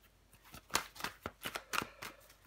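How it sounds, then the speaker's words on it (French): Tarot cards are shuffled and laid out, a string of crisp, papery snaps and flicks in irregular bursts, close and fairly quiet, with no voices. "On va recouvrir des cartes."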